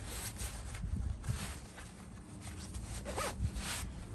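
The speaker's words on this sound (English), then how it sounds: "zipper on up, good to go" A zipper on a Milwaukee heated jacket is drawn in several rasping pulls, close and clear, with faint rustling of fabric between strokes.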